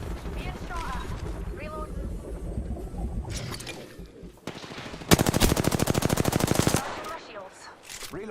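Rapid video-game gunfire in a battle-royale style match, a loud sustained automatic burst following scattered shots, with a voice talking over the action.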